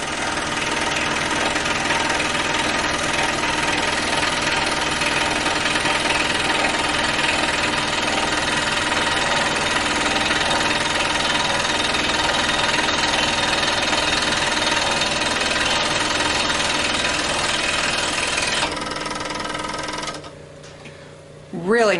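A Rikon 10-622VS 22-inch scroll saw cuts through 1-inch-thick cedar with a loud, steady, rapid buzzing chatter that runs continuously for nearly twenty seconds, then winds down and stops near the end.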